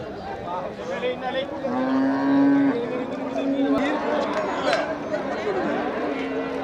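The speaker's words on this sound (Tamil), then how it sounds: "இது வண்டி மாடு." Draught cattle at a livestock market in Melapalayam moo, with one drawn-out low call standing out over constant crowd chatter and other animal noise nearby.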